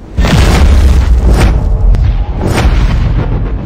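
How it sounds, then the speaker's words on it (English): The Nightmare Tower collapsing in the video game Dungeon Hunter VI, a loud, sustained rumbling boom of crumbling structure that rolls on without a break, with heavy low-end thunder and debris crashes. "The Nightmare Tower is collapsing!"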